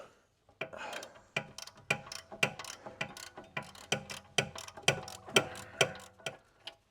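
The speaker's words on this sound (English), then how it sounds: "with a long handled flex head ratchet to break the torque initially" A long-handled flex head ratchet clicks in a quick, even run of about a dozen sharp pawl clicks, close and clear, while loosening a rear brake bolt on a Volvo XC60.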